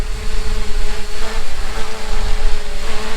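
A Fimi X8 SE drone takes off and hovers over Lucky Peak Reservoir in wind, its propellers making a loud, steady buzzing whine with a constant pitch, close to the microphone, with wind rumble and no speech.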